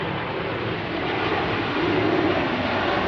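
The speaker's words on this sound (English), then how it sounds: "That's that plane right there. Look how low it is." A low-flying airplane passes overhead in New Jersey, a loud, steady broadband roar that swells slightly toward the end, with no one talking.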